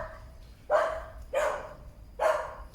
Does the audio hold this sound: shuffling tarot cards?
no